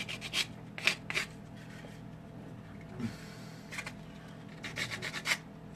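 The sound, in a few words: sanding a clay Allosaurus sculpture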